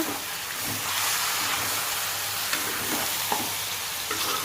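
Chicken stirred and frying in hot oil in a pan for a country-style chicken curry, with a steady close sizzle and occasional scraping stir sounds throughout.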